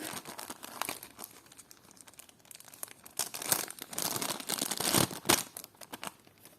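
A small plastic packet is crinkled and torn open by hand, with irregular bursts of crisp rustling and crackling that swell louder toward the end, close and without talk.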